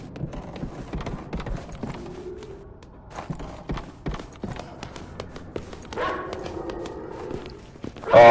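Dogs in the video game Resident Evil 6 give short, scattered barks mixed with footstep-like taps and thuds from the game, fairly quiet and uneven.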